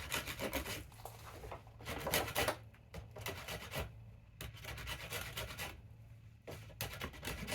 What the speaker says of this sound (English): I'm going to run the rasp back over that again